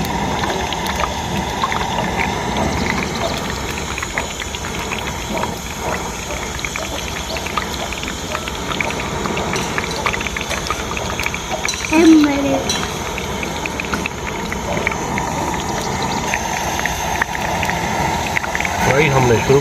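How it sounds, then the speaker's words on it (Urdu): Chicken pakora coated in gram flour batter sizzles and bubbles steadily in hot oil, a continuous close frying hiss with occasional faint clinks, under a speaking voice. "فرائی ہم نے شروع کر دیا، اب چھوٹے ڈالیں گے تاکہ فرائی اچھی طرح ہو جائے۔"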